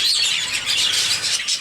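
A cinnamon pearl cockatiel hen gives a continuous, loud, harsh screeching call up close for about a second and a half, with no talking over it.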